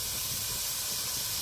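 Sliced onions and green chillies sautéing in hot oil in a pan, a continuous close hissing sizzle, steady and fairly loud with no talking.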